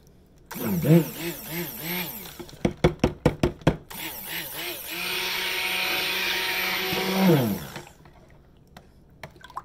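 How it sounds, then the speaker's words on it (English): A handheld stick blender whirs loudly in bursts while mixing soap batter toward emulsion, with a series of sharp knocks against the container between runs, then a long steady buzzing run that cuts off. "stick blender."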